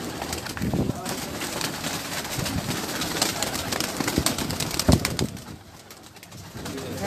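Pigeons on a rooftop cooing amid steady outdoor noise, with a brief flutter and a sharp knock near the end before the sound drops quieter.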